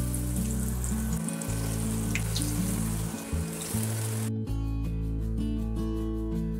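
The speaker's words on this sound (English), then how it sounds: "The oil is ready now, it's hot. Now let's fry this." Bread pan rolls deep frying in hot oil, a steady close sizzle and bubbling with a soft watery crackle, continuous throughout beneath background music.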